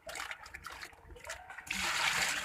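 Water pouring and splashing into a large batch of flour mixed with baking soda for shahi jalebi batter, a steady rushing pour that grows louder and fuller toward the end.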